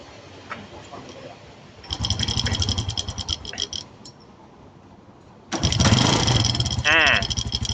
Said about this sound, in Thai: รถคันนี้ เจ้าของสตาร์ทเครื่องครับ เดี๋ยวเราฟังเสียงเครื่อง